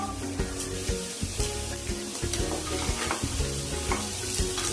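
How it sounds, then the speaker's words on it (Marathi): Poha appe and tikki cutlets coated with white sesame fry in an oil-greased appe pan, giving a steady, dense sizzle with crackling pops throughout, close and fairly loud, with no talking. "सर्व आप्पे आणि टिक्की आपण याच रंगावर भाजून घेणार आहोत"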